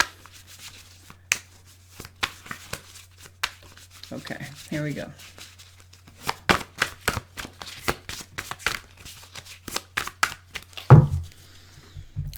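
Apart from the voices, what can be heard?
shuffling tarot cards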